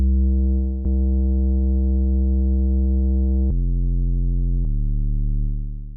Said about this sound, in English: this is going to add a percussive sound to the initial attack of your 808